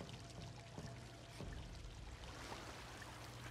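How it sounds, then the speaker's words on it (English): Sewer water flows and pours steadily in the Vampyr video game, a faint, continuous watery wash with a low rumble underneath and no speech. "Oh, I can walk out into the disgusting, disgusting sewer water."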